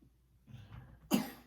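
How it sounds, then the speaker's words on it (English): A child's cough indoors, one quiet throaty sound followed by a sharper, louder cough, close and brief. "What's that cough?"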